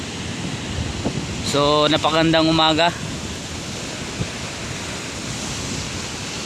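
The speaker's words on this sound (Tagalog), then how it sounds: "tingnan nyo guys ang alon kung gaano kalalaki" Big waves roll in on a Palawan shore in December, a steady roaring surf wash throughout, with a voice briefly speaking over it and some wind buffeting.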